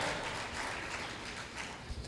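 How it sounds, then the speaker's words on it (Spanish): A congregation in church applauding for the Lord, a steady wash of many hands clapping, fairly faint and distant, with no clear voices over it. "Démosle un aplauso al Señor, hermano."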